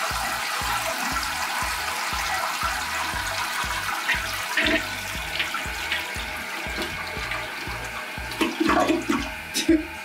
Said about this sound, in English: The toilet flushing so slowly like that worries me a little bit.